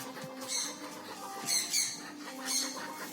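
Repeated squawks from a pigeon-like chicken at a farmhouse, three harsh bursts roughly a second apart over a quiet background.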